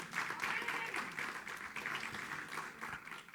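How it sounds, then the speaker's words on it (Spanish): Congregation applauding in a church service, a steady wash of clapping sustained throughout at moderate distance, with faint voices mixed underneath. "¿Cuánto le dan un aplauso al Señor?"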